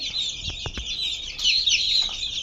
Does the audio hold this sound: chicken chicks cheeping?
yes